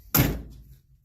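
A Chevelle car door shuts once with a solid, close thunk and a short decay into quiet.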